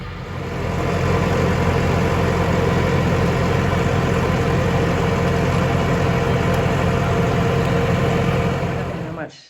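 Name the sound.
tractor engine running nearby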